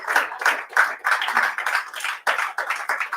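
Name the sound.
audience applause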